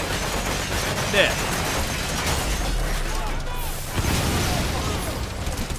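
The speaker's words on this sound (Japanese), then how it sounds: "爆発させたんですけどね、今。" Explosions and a dense burst of gunfire roll through a stealth mission in Metal Gear Solid V: The Phantom Pain on PS4, a loud continuous rumble with sharper booms near the start and again midway, under scattered talk.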